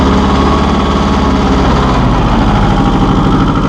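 A 1984 John Deere 650 compact tractor engine runs steadily up close, a loud, continuous low diesel chug with a rhythmic throb and no voices.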